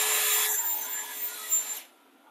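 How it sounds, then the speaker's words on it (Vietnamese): A cordless drill with an ATC anti-kickback safety feature whirs steadily at close range, then cuts off abruptly under a jammed bit, leaving near silence. "Nó có thêm cái chức năng ATC nữa, là khi mà cái mũi khoan bị kẹt á, mình lắc cái góc cái là nó ngưng ha."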